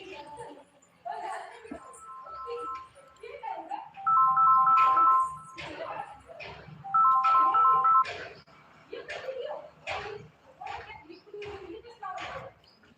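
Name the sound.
phone ringtone, incoming call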